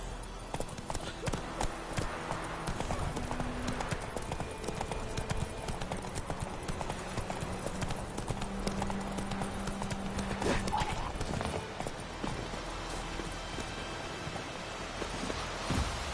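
Horse galloping in The Witcher video game, rapid continuous clip-clopping hooves close and loud, mixed with background game music and a voice speaking briefly.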